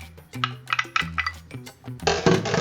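A spoon scrapes and clinks against a dish while stirring chicken enchilada filling, a quick run of close metallic taps and knocks ending in a louder burst of clattering.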